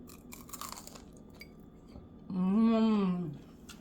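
Crispy squash and shrimp fritters are bitten and chewed up close, a few faint crunches followed by a short hummed voice sound.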